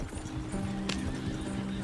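Horses in the Red Dead Redemption 2 video game clip-clop along at a walk, hooves tapping faintly and steadily, with a brief snort or whinny rising midway.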